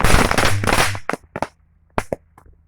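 A matchbox target hit point blank by a BB gun bursts with a sharp, close pop and crackle, followed by a few scattered snaps and pops that fade out.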